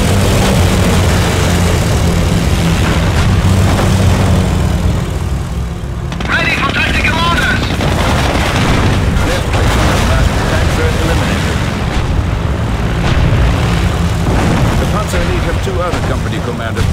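Henschel aircraft strafing run in the Panzer Elite strategy game: loud, continuous rumbling engine and gunfire-like blasts with booming impacts across the whole stretch, voices calling out over the battle noise.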